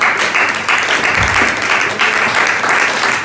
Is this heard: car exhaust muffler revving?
no